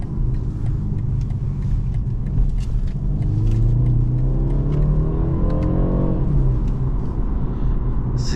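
A 2022 BMW 430i Gran Coupe, rear-wheel drive with a ZF 8-speed automatic, accelerates under power. Its engine note climbs steadily in pitch over a constant road rumble, then drops back, with no talking.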